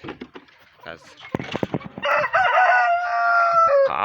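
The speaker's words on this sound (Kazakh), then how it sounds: "қалайсыңдар тауықтар?" Hens in a farmyard coop at egg-collecting time, with short clucks and busy calls up close, then a sustained crowing-like cackle near the end; no talk is heard.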